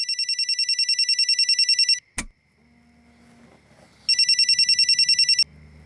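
A telephone rings in two loud bursts of rapid electronic trilling, separated by a sharp click and a stretch of quiet low rumble.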